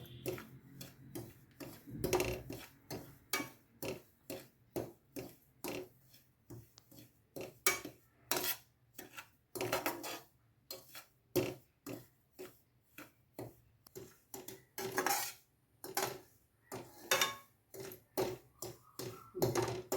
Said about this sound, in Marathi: आपण हा रवा तूप घालून पंधरा मिनटं चांगला खमंग भाजून घेणार आहोत